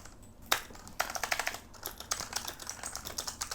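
Rapid keystrokes on a Razer Huntsman Elite RGB mechanical gaming keyboard with opto-mechanical switches, crisp, close clacks in quick bursts with brief pauses, no talking.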